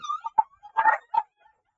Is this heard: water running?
no